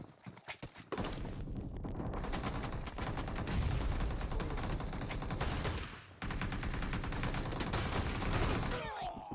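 Gunfire in the mobile battle royale game PUBG Mobile, loud sustained automatic bursts that briefly cut out and resume, with a couple of sharp single shots at the start.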